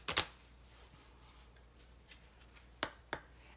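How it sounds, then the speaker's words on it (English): Someone shuffles a deck of cards in a quiet room, with a sharp riffle burst at the start and two brief snaps near the end, separated by soft handling noise. "I'm going to shuffle the cards again right now"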